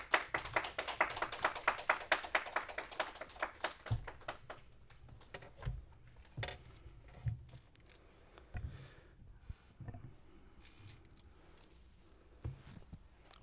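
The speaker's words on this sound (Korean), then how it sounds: "이 시간에 우리 박수로 환영하겠습니다" A brief burst of applause from a small church congregation welcoming a preacher at a Sunday service, fading into scattered claps, shuffles and footsteps in a quiet room.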